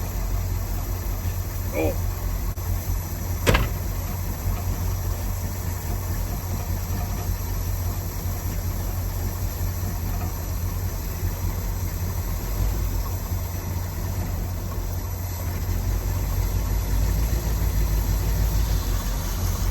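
A 1960 Cadillac hearse engine runs at a rough, steady idle, loud and close, as it is put into gear and creeps off; a sharp knock or clunk stands out early on, and someone speaks a few short words.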